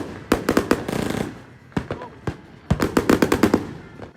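Fireworks going off on the 4th of July, sharp bursts of pops and bangs in rapid clusters with a few single cracks between them, echoing outdoors at moderate distance.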